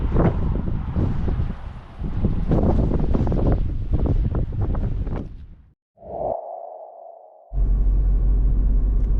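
Strong wind from a Saharan sandstorm on Crete roars and buffets the microphone in a steady rush, dropping out briefly before surging back just as loud.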